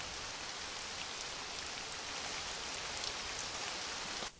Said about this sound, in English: I'm gonna get rid of the rain effect there.